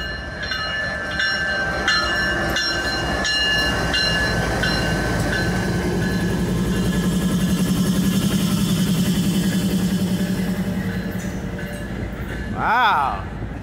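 A CPKC freight train rolls past on Norfolk Southern's NS 310 line, with a loud, sustained rumble and wheel noise swelling near the middle, steady tones throughout and a brief horn-like sweep near the end.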